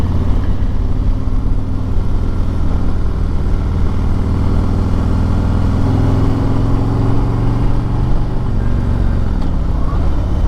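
Steady engine rumble from a 2021 Harley-Davidson Street Glide Special motorcycle, a continuous low throb that holds loud and even throughout, with no voices over it.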